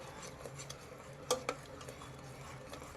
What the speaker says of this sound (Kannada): ನೋಡಿ ಮಸಾಲೆ ನಮಗೆ ಈ ಥರ ಚೆನ್ನಾಗಿ ಫ್ರೈ ಆಗಬೇಕು.